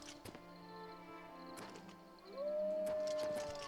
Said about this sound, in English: I did just hear a wolf howl.